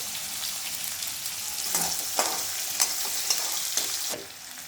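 Onion, green chillies and peanuts fry in hot oil with hing while a spoon stirs them around the pan, making a steady sizzle broken by several clear scraping strokes, close and moderately loud.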